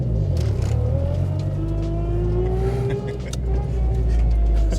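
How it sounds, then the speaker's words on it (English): A car engine runs steadily as the vehicle drives, with a thin high-pitched whine from a failing alternator rising slowly above the motor noise throughout. "your alternator going bad? Yes, really bad if you couldn't tell by the high-pitched whining."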